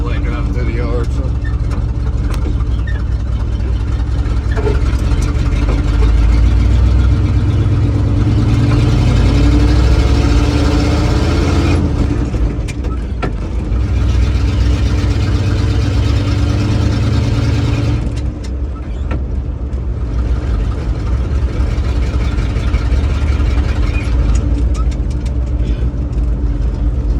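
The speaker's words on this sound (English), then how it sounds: "Making our own driveway, driving through the yard." Vehicle rolling across a yard to cut a homemade driveway, its engine a steady low rumble with surges and bumps throughout, up close and continuous.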